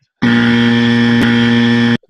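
A game show buzzer gives one loud, steady, harsh electric buzz lasting under two seconds, heard alone with silence before and after.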